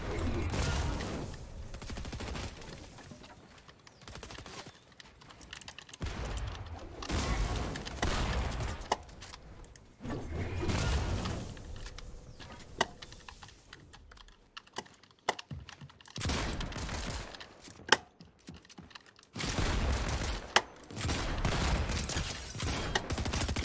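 Rapid bursts of gunfire in a Fortnite match, repeated volleys and single cracks spread across the scene, with quieter gaps between fights.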